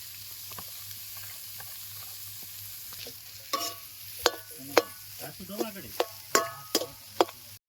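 A spoon stirs mashed potato filling into sizzling cooked masala in a pan while making Kathiyawadi stuffed papad curry in a village kitchen. Soft frying hiss runs underneath, then repeated scraping, clacking strokes grow louder toward the end.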